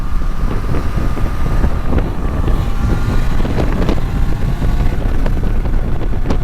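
A 2022 Triumph Trident 660 motorcycle being ridden, with a steady loud engine whir and rumble, heavily masked by wind buffeting on the microphone.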